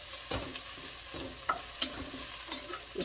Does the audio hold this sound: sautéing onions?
yes